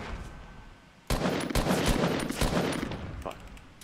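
Gunfire from an enemy team in Fortnite Battle Royale, a sudden burst of rapid shots after a quiet second, continuing as a busy run of cracks and echoes with fainter shots near the end.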